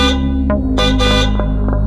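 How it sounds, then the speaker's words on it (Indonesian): A car horn honks repeatedly on the Cipularang toll road, several loud close blasts in quick succession over a steady engine hum. "Tiba-tiba terdengar suara klakson berbunyi berulang."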